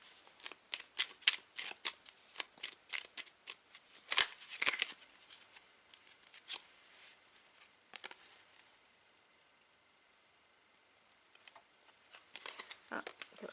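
Oracle cards are shuffled and drawn in a quiet room, giving rapid papery riffles and snaps in bursts, with a softer lull in the middle before more flicking.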